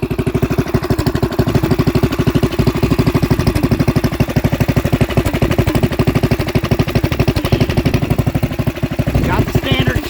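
A 420cc Predator engine on a homemade recumbent motorcycle with a shower head exhaust runs close by with a loud, rapid, machine-gun-like single-cylinder putter, steady for about ten seconds.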